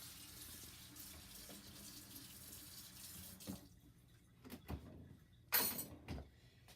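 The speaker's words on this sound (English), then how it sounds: "And then rinse your spoon and toss it in the dishwasher." Water runs from a tap as a spoon is rinsed, a steady hiss for a few seconds that stops, followed by scattered clinks and knocks.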